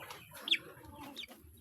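A loose Huluano crossbreed chicken clucks a few soft, short times at close range in a dirty backyard pen, over low ambient noise, with no voices heard.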